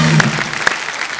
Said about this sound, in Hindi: एक बार जोरदार तालियां सूर्यवंशी के लिए।